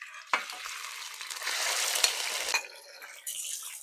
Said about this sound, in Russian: Закидываю сюда нарезанные кусочками сердца и почки.